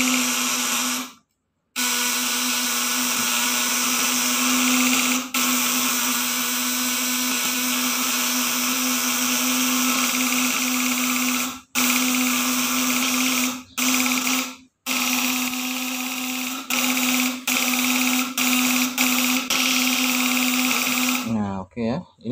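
Flip-flop electric shocker circuit with platinum contacts buzzing loudly under test, a harsh, steady electrical drone broken by brief cutoffs, with a voice speaking over the buzz in places.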